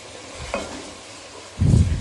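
Tomatoes are stirred into biryani masala in a pot with a brief sizzle and a clatter, then a louder scraping stir near the end, close and short, with no voices.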